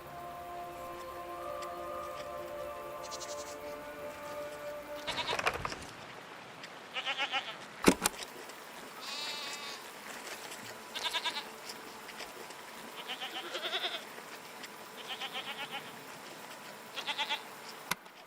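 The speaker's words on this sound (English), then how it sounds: "What are these strange goat-like creatures? Are they simply goats?" Goats in the video game Season: A Letter to the Future bleat several times at a moderate distance, with short calls spaced across a quiet outdoor ambience.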